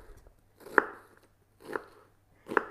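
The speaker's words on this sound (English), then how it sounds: "Instead of chopping too far, get in and really nice and fine." A knife chopping food on a board while preparing meat loaf, with three close, distinct cuts spaced roughly a second apart, each a crisp knock with a short soft trail, and no talking.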